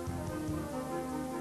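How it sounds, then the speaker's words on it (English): Dry foundry sand rains steadily into a vibrating lost-foam casting flask, a dense, continuous hiss like rain on a surface with a low rumble beneath, holding level throughout. "The sand level rises as additional sand is rained in."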